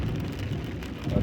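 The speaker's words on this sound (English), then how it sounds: "it's raining like heck here" Heavy rain pelts a moving vehicle on a North Dakota road, making a dense, steady hiss and patter over low road rumble.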